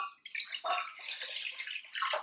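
Water is poured from a container into a bowl for Venezuelan arepa dough, a steady close splashing stream with small breaks, heard alone.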